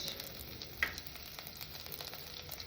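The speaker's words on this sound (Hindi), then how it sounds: "तो मैं डाल रही हूँ अभी जीरा एक बड़ा चम्मच।" Cumin seeds sizzle in hot oil. It is a faint, steady hiss with light crackling and a single small clink early on. Nobody speaks.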